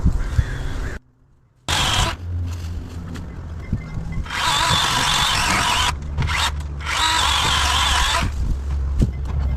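A DeWalt chainsaw cuts through wood indoors. The motor snarls in uneven bursts, cuts out completely for a moment, then returns with two longer, louder stretches of steady cutting, close to the microphone.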